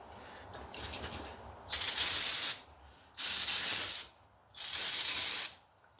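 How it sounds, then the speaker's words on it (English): Three separate bursts of carb cleaner sprayed onto the parts of a 1991 GT Talera mountain bike during reconditioning. Each hissing spray lasts about a second, close and loud, with a faint clicking between bursts. "take a little carb cleaner"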